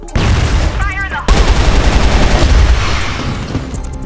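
AK rifle gunfire in a competitive ranked shooter match: a loud, sustained burst of rapid automatic shots, with a harsh crack partway through and a brief voice underneath.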